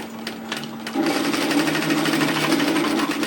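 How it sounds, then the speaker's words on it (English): A sewing machine stitches a short seam on a dress at a 1 cm seam allowance, starting abruptly after a brief pause and then running steadily and close up for about two seconds, with a constant mechanical whir and no talking. "place right sides together and sew the short seam at 1 centimetre, 3/8 of an inch"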